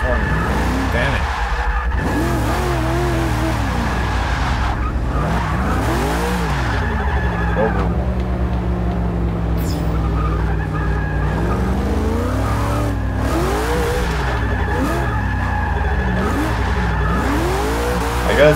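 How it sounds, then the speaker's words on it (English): A Chevrolet Camaro drifting in Forza Motorsport 6 online, with an engine revving and falling continuously and tires squealing through long slides, loud and sustained, while a player talks over it. "See what this Camaro can do, guys."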